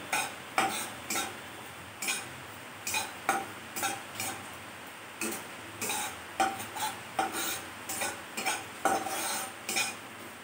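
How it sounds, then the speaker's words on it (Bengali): White sesame seeds dry-roasting in a pan, stirred with a spoon in a steady rhythm of scraping strokes, roughly two per second, with light rattling of seeds, close and clear with no voices. "শুকনো খোলায় একটু রোস্ট করে নেব তিলটাকে।"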